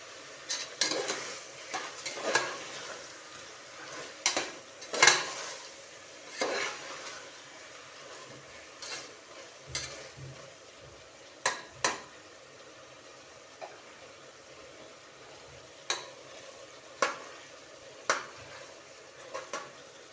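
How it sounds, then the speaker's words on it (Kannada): A spoon stirs a biryani mixture with tomato in a pan, giving sparse, quiet scrapes and sharp metallic clinks spread over a long stretch against a faint sizzle, with no talking. "ಮತ್ತೆ ಮಿಕ್ಸ್ ಮಾಡಿಕೊಂಡು ಇದಕ್ಕೆ ಟೊಮೊಟೊ ಹಾಕಿ"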